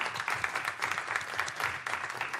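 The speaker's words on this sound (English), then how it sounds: "Let's give her a round of applause" A room of people at a council meeting gives a round of applause, a steady crowd of clapping hands that holds fairly even throughout, moderately close, with no talking heard.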